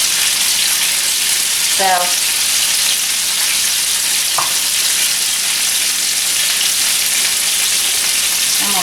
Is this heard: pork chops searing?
yes